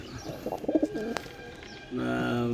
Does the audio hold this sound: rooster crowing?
no